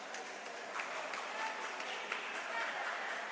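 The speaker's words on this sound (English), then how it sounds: "See her teammates cheering her on." Teammates at a high school varsity swim meet cheer and applaud a swimmer finishing a 500-yard race, a steady wash of distant clapping and crowd noise echoing in an indoor pool with faint voices mixed in.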